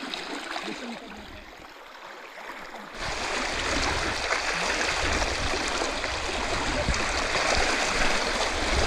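Strong stream water rushes at night on a traditional fishing trip in Konkan, a continuous close roar that swells louder after the first few seconds and runs without a break.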